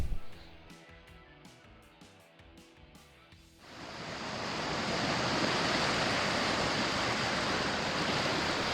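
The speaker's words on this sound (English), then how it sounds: "Water down from the hills coming walloping into our newest footbridge in Kalinga Park" Floodwater coming down from the hills during the February 2022 Queensland floods rushes into, over and under the newest footbridge in Kalinga Park. A quieter stretch with scattered knocks gives way to a loud, steady, broadband roar of surging water.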